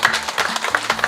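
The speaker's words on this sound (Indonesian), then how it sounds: "Tepuk tangan." A crowd claps briefly at a campaign rally in Kampung Kaprus, Distrik Sough Wepu, giving a short burst of clustered hand claps with no talk over it.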